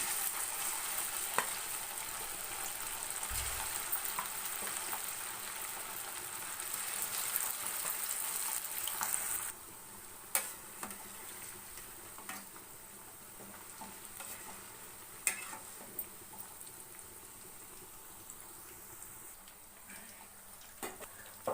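Chicken kebab pieces frying in hot oil in a pan, a soft, steady sizzle with scattered small pops and crackles throughout, no voices.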